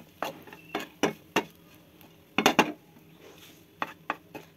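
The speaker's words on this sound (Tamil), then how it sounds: "நல்லா கிளறிக்கலாம்." A spoon scraping and knocking against a pan while varagu (kodo millet) semiya upma is stirred, giving irregular short clinks and scrapes in uneven bursts, fairly quiet and close with no voices.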